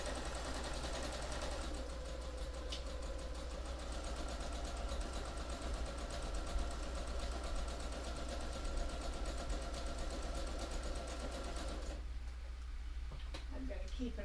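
A sewing machine stitches keyfobs, giving a steady, even mechanical whir that runs for several seconds at a moderate level before stopping abruptly near the end.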